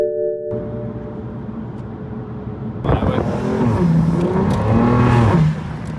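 A BMW M3 Competition accelerates hard, its engine note climbing through the revs in loud, rising sweeps after a steady idle-like hum. Excited voices exclaim over the engine.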